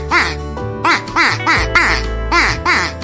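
Ducklings quack in a rapid series of high, bright calls, several bursts overlapping close by with a low rumble underneath, loud throughout.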